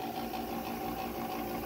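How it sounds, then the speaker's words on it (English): A small Hankscraft motor runs with a steady, faint, even hum and slight vibration, unbroken for the short stretch, with no voices over it. "you can hear the motor running."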